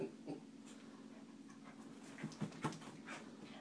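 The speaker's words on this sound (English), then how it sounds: "You're a little aggressive Cocker Spaniel." A Cocker Spaniel panting softly and whimpering close by, a quiet run of short breathy pants with a few small whines near the end.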